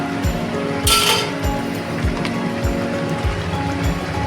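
A spoon stirs ground garam masala into raw jackfruit cooking in a pan, a regular series of soft scraping clinks over a steady sizzle, with one brief louder rush partway through.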